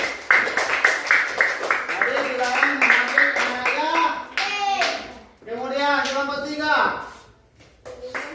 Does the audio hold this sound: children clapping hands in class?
yes